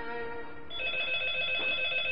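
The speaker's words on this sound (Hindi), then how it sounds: "टेलीफोन बज रहा है, तुम रिसीव क्यों नहीं कर रही हो?" A telephone rings steadily, a close, continuous electronic bell tone that carries on for the whole span without pause and with no voices over it.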